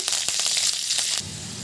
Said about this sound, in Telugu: ఇప్పుడు కొంచెం కరివేపాకును కూడా వేసుకోవాలి